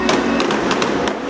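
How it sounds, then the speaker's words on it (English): A patriotic fireworks barrage over Tampa, booming bangs and crackles packed closely together over a steady roar of crowd and ambient noise, loud and continuous. "Classic firework form. No rhyme or reason to the shape, but beautiful colors and big old bangs."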